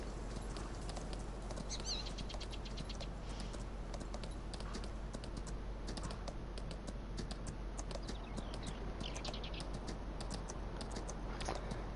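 Horse hooves during a ranch ride in Farming Simulator 19, a quiet, continuous run of rapid, light clip-clop steps held at an even pace throughout, with no talking.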